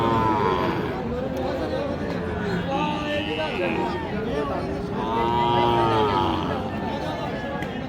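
A cow lowing at a busy cattle market, with a couple of drawn-out moos rising over a constant hubbub of crowd chatter and nearby talking.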